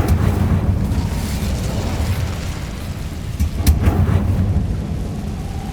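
Incendio fire spell cast in Hogwarts Legacy, a loud roaring whoosh of flame with rumbling low bursts, sustained throughout with a brief sharp crackle midway.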